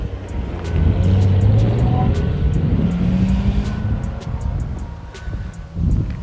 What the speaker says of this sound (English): oh hello, that is a Corvette behind me